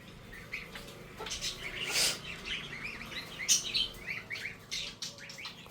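Budgerigars kept in a home aviary chirp in a busy, overlapping chatter of quick tweets, moderately close, with a brief flutter of wings in the middle and no talk.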